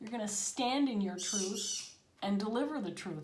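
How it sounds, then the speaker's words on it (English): A pet bird squawks in loud, shrill bursts repeatedly behind a person speaking steadily indoors. "Sorry about the bird noise. It's time for her to go to bed."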